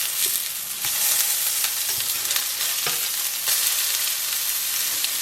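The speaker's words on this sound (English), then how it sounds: "I'm flipping these, so we're just going to flip them." Kotletai patties sizzle loudly in a pan, a dense constant hiss broken by a few scraping taps as they are flipped over, close up and with no voices.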